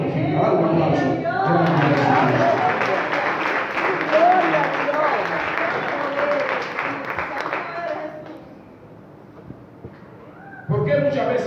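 A church congregation breaks into sustained applause, dense clapping filling most of the clip before tapering off, with a preacher's voice heard over and after it.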